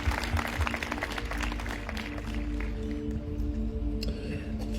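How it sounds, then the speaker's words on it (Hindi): An audience at a church worship gathering applauds, a dense crowd of clapping hands that is strongest at the start and eases off slightly, with a low steady hum running underneath. "क्या हम इन भाइयों के लिए ताली बजा सकते?"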